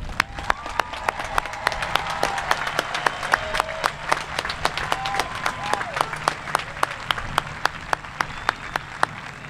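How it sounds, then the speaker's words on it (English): Graduation audience applauding the class of 2022, a dense, sustained wash of clapping from a large crowd, with sharper individual claps standing out and faint voices underneath. "Let's all give them another round of applause."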